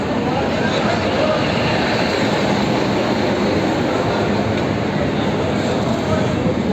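A loud, steady rumble and rattle of a moving passenger train in snow between Srinagar and Banihal, heard from inside a carriage, with a constant broadband roar and no pauses.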